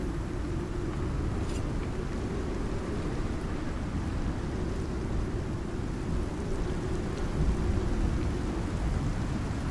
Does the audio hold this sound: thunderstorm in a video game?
yes